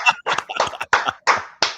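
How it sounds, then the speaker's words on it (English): One person clapping hands in applause: about seven crisp, close claps, the first few quick and uneven, then slower evenly spaced single claps. "I'm going to applaud for you"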